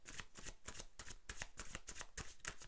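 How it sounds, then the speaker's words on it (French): Playing cards being drawn and shuffled by hand, a quick run of crisp riffling flicks and soft slaps in an irregular rhythm, close and fairly quiet with no speech. "je vous tire une dernière carte."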